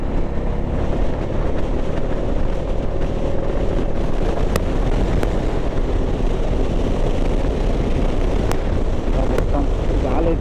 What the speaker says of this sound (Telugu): చాలా బీభత్సంగా వస్తుంది గాలి